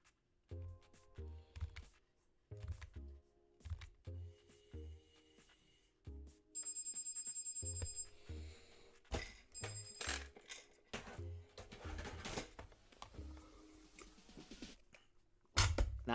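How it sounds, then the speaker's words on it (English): Phone alarm set as a medication reminder, ringing in repeated electronic chime patterns with brief tonal bursts, fairly close and distinct against a quiet room. "That was my alarm to take my meds."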